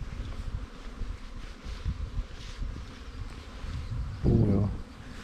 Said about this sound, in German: Jede Menge Bienenstöcke, faszinierend. Hört ihr das Summen?